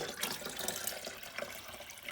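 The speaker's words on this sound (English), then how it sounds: "So I'm going to mark up to the 8-cup line with cold, fresh water." Cold tap water runs into a coffee maker carafe as a soft, steady splashing stream with faint gurgles, quiet and close, with no talk.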